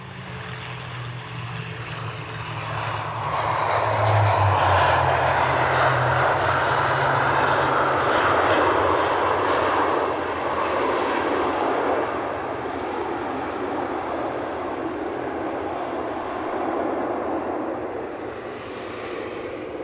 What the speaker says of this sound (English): Finnair on the way out.